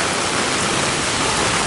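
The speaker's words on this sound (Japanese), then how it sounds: "すげえ雨だな。" Heavy rain on the way to Shinjuku, heard as a dense, steady, close roar of hiss and spatter that fills the whole moment, with no voices over it.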